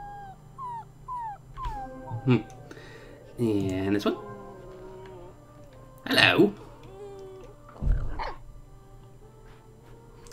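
Dog barks and whimpers from the video game Fer.al, a few short yaps and whines spaced across the stretch, mixed with other animal calls and a person talking over them.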